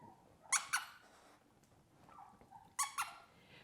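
A squeaky dog toy is squeezed for three-week-old Goldendoodle puppies, with two quick pairs of sharp squeaks close by, separated by a quiet gap with faint rustling.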